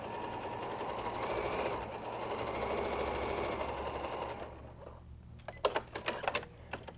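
Sewing machine running steadily while chain piecing a quilt, a fast even whir for several seconds that stops, followed by a burst of sharp rapid clicks and knocks close by.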